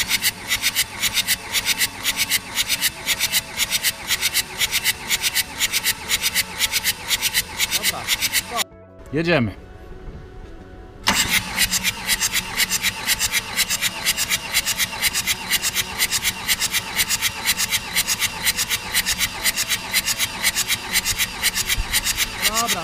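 A BMW E60 2.0-litre M47 diesel cranks over on the starter during a compression test, a steady rhythmic chugging that runs continuously, breaks off briefly while someone speaks a word, then resumes for a long stretch.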